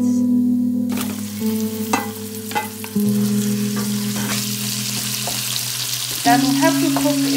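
Lamb mince sizzles and crackles steadily in hot oil close by over a small-to-medium gas flame, with occasional scraping and stirring clatter from a utensil against the pan.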